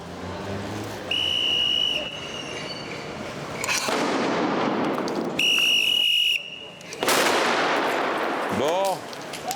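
Bomb disposal specialists in Paris carry out a controlled detonation inside a safety perimeter, with loud bursts of noise separated by short pauses, sustained whistle tones and a voice speaking near the end.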